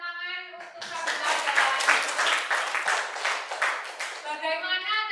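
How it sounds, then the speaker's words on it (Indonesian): Students in a high school classroom clap for a classmate, a dense burst of hand claps lasting about four seconds, with talk heard briefly before and after. "Boleh tepuk tangan untuk Sabila."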